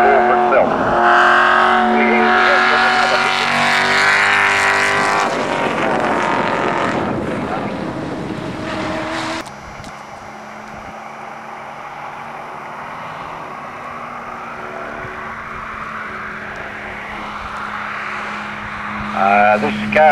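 A historic race car engine roars loudly at a 2007 sprint meeting in Myrniong, with wind buffeting the microphone and the note fading and shifting as the car moves away; no voices.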